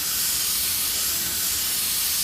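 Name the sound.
spray painting third coat of white paint on motorcycle fairing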